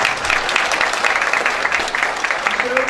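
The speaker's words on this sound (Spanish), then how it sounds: "Un aplauso." A lecture audience at Santo Domingo's Catholic University breaks into sustained, dense applause, a loud continuous wash of many hands clapping that holds steady for the whole stretch.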